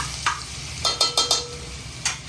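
Garlic drops into hot oil already holding cumin and mustard seeds as tempering for crab masala, a close continuous sizzle punctuated by a burst of quick metallic stirring clinks against the pan.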